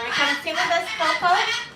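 A pet talking parrot chatters in a close, continuous, speech-like babble of rising and falling squawky syllables, filling the whole short stretch with no human voices.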